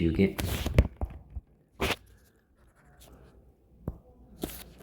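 A board is wiped with an eraser in a physics lesson: a few short, dry rubbing strokes come in separate bursts with quiet gaps between, close by, while a teacher talks around them.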